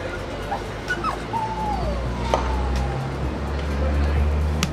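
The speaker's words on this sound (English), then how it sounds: "Check this out, this dog." A dog on a street in Slovenia whimpering and crying in short, high, wavering whines, close by over low traffic rumble and background noise.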